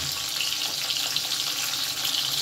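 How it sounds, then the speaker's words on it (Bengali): Cut cauliflower florets with a little salt frying in a pan, a steady close hissing sizzle with faint crackle, continuous and unaccompanied by speech. "এটাকে ভালো করে ভেজে নেব"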